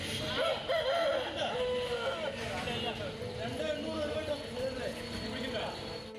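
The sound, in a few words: roosters at an illegal cockfight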